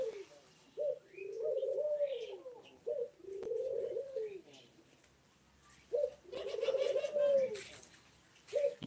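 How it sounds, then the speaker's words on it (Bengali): Pigeons coo in a few long, rolling phrases separated by short pauses, close by in Osmani Udyan park, Dhaka, with faint chirps from smaller birds in the background. "কবুতর কবুতর আছে এদিকে"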